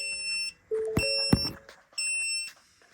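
A Ford Ranger 3.2 automatic's transmission and engine protection warning beeps in repeated on-off bursts, nearby and fairly quiet, with a couple of sharp clunks in the pauses between tones.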